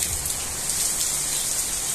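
Heavy rain beginning to fall in Apodi, Rio Grande do Norte, Brazil, a steady loud hiss of water pouring down without letup, with no voices over it.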